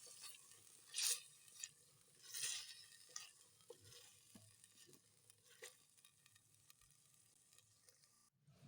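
Spatula scrapes and stirs spicy chicken liver kaleji with fresh coriander in a pan, a faint sizzle underneath, with a few sharper scraping strokes early and quieter intermittent stirring afterward, no talk.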